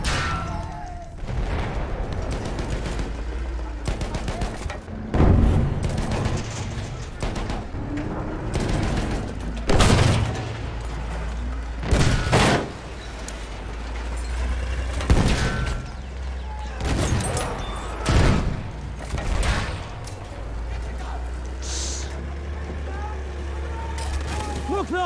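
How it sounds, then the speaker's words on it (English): Enemy machine gun fire rattles through a World War I battle game played in a St Chamond tank, with bursts and heavy booms over engine rumble while a player shouts throughout. "There's an enemy machine gun!"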